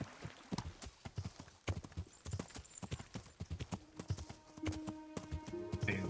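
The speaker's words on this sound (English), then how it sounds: "Come on, horse." Horse hooves clip-clop in a steady, brisk rhythm on a path in the medieval video game Kingdom Come: Deliverance, close and clear, with a faint musical tone rising toward the end.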